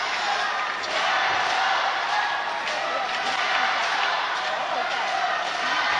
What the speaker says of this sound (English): The crowd are into this.